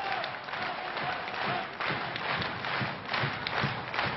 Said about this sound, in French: après avoir largement applaudi le petit Rémi à gauche